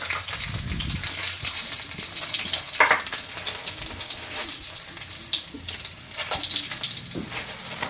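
Cumin, dried red chillies and mustard seeds, with garlic, fry in oil for a ginger pulusu, giving a loud, continuous crackling sizzle with stirring noises and no talk.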